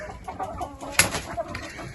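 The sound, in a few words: chickens clucking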